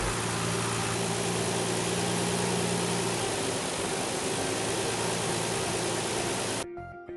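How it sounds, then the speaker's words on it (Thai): A 2002 Nissan Cefiro A33 2.0 automatic idles smoothly and evenly, a steady low rumble that continues unchanged before cutting off abruptly near the end. "เครื่องยนต์เดินนิ่งเรียบนะครับ"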